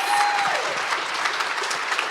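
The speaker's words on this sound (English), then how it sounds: "Let's get another huge round of applause for Havander" A standing ovation from a large audience at a presentation event, dense applause filling the room steadily and loudly from start to finish.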